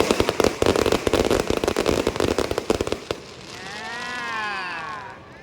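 Fireworks launched at a park opening event in Suan Luang Rama IX, a rapid volley of sharp crackling bangs for about three seconds, then a fading whistling trail, loud and outdoors.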